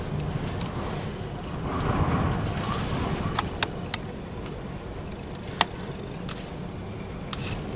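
A ROCO DB 215 model locomotive motor, powered straight from its contacts, gives off a steady, faint whirring drone broken by occasional sharp little clicks.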